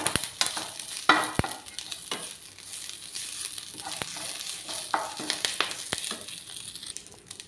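Drumstick leaves are stirred and roasted in a pan, producing a steady dry sizzle broken by frequent sharp scraping and clacking strokes of a utensil against the metal, close and fairly loud, with no talking.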